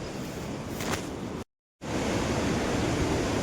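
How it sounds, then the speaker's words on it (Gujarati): A mountain river near Yamunotri rushes with a steady, loud, broadband roar that fills the whole clip, cutting out briefly to silence before resuming, with no one speaking. "જો આ નદી છે"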